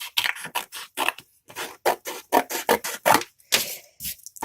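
Scissors snipping craft paper for a Disney princess gift box, a close series of short crisp cuts in uneven rhythm with brief pauses, loud and alone without talk.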